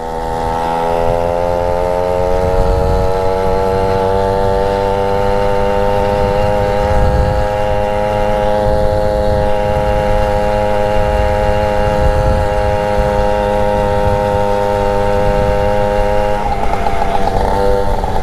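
An old, battered MBK 51 moped idles close by with a loud, rattling exhaust. The steady, buzzing drone holds throughout, and its pitch shifts slightly near the end.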